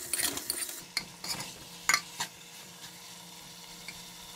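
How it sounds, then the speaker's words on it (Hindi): Potato-coated mutton chops fry in a pan over medium heat: soft, steady sizzling with a few clinks and scrapes of stirring early on, then settling to a quiet, even hiss. "चॉप्स डालकर 2 से 3 मिनट के लिए मीडियम आंच पर भूनेंगे।"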